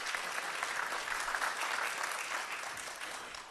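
Dense, steady applause from a plenary audience at the opening of an international forum, a broad even wash of many hands clapping that holds loud throughout and eases slightly at the end.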